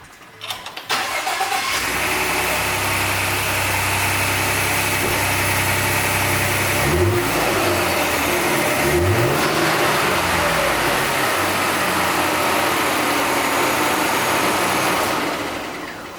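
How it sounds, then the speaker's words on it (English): A Ford F150 pickup engine cranks and catches, then settles into a steady, loud idle close by, with a couple of quick revs rising and falling midway before the sound cuts off near the end. "start the truck up, and let it breathe"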